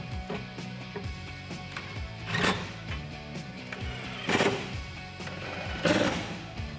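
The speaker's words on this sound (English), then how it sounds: "Grab your T30 Torx and tighten this down." Hardware on a BAK Industries BAKFlip FiberMax tri-fold tonneau cover for a Toyota Tacoma is tightened with a T30 Torx, a close, fairly quiet run of clicking and grinding mechanical sounds with a few louder scraping bursts.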